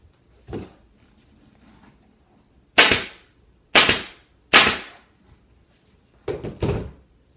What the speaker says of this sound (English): We're going to staple it.